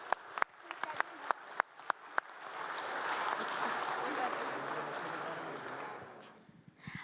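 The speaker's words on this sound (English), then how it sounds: "can we get one more round of applause for all of the AUSA officers?" A chapel audience breaks into applause after a few scattered claps, swelling into steady, dense clapping that fills the room before fading out near the end.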